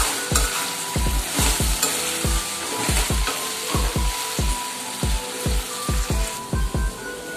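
Okra for bharwa bhindi masala sizzles in a pan under a steady frying hiss, while a spoon strikes the pan in a regular rhythm of sharp metallic taps as it is stirred, close and with no talking.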